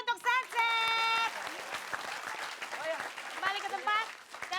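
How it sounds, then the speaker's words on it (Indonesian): Audience applause for the group Sunset on a comedy variety show: brisk clapping running throughout under overlapping voices and an excited shout, with cheering and talk mixed in close by. "tepuk tangan dulu untuk Sunset"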